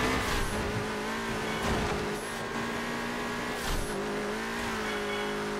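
A race car engine drones and shifts pitch in the PS2 game Burnout 3: Takedown, a steady mid-level engine whine with brief tire squeals and swooshes, no voices.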